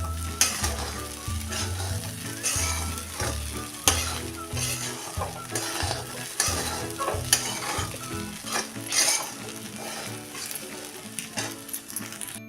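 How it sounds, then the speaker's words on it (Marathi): Sabudana khichdi with steamed potato is stirred and fried in a pan. A close, continuous sizzle runs under frequent scraping and clattering strokes of the spoon, and no one speaks. "अजून एकदा परतून घेऊया"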